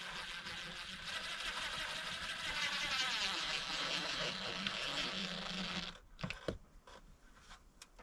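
Exterior deck screws driven into wood by a power driver: a sustained, whining buzz of the screw biting in for several seconds, then stopping, followed by a few sharp knocks and clatters.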